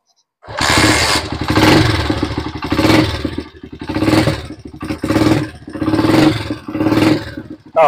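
A motorcycle engine starts and runs close by, revving in repeated surges that rise and fall every second or so; it has an ignition key switch fault and won't shut off when the key is turned off.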